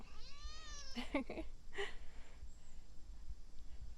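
A cat meows once with a drawn-out, wavering cry, followed by a couple of shorter chirpy meows, fairly quiet over a faint background hum.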